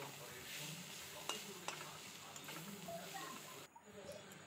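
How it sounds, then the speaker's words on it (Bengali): Teasel gourd stirred and fried in a pan, a soft continuous sizzle with a few sharp clicks of the spatula against the pan, quiet and close, fading to near silence at the end. "নেড়ে চেড়ে আবার একটু ভালো করে নেড়ে চেড়ে নেব, একটু ভাজা ভাজা হওয়া পর্যন্ত"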